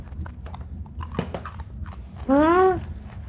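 A crunchy macaroni snack is chewed close up, with steady crisp crunching and biting, ending with a brief hummed vocal sound.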